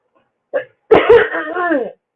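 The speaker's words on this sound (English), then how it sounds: "I'm sorry I keep coughing into the microphone." A single close cough, a short burst followed by a longer hoarse, voiced throat sound.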